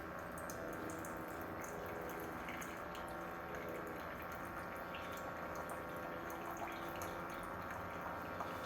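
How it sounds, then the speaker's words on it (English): TSINGLONG single-serve coffee maker brewing very hot water, a steady trickling and gurgling stream pouring out of the spout at close range, continuous and even throughout with a low mechanical hum underneath. "So this is how it's brewing. So it is working. It's coming out down there."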